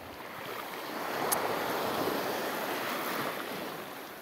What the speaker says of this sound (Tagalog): Medyo may alon